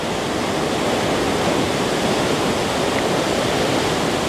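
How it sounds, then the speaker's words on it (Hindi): A roaring waterfall in Meghalaya produces a dense, unbroken rush of falling water, loud and close, with no gaps. "देखो आप वाटरफॉल देखो आप और आवाज़ सुनो उसकी"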